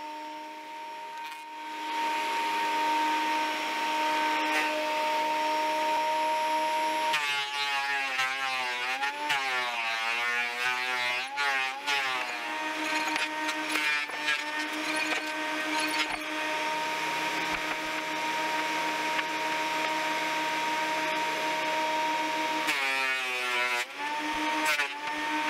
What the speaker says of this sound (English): I ran the boards through my old planer to clean them up and get them close to final thickness